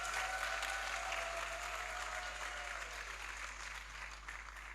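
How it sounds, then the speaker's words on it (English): Sustained applause from the audience at a preparatory school graduation ceremony, a dense even wash of clapping that holds steady throughout and tapers slightly at the end. "I want you to just give them a big round of applause as they sit there."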